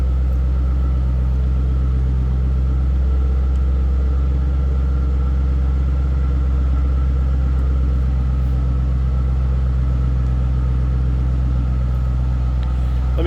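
A supercharged 2006 Ford Mustang Saleen S281 convertible idles with a steady, low, rumbling V8 burble, loud and close with no talk over it.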